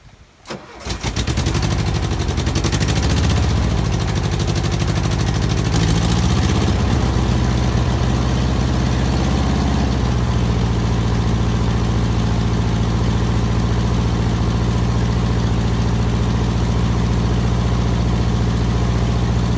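A 1977 VW Type II bus engine, primed by the fuel pump, cranks and catches on a cold start, then settles into a loud, steady, rumbling idle that runs nearby without letup.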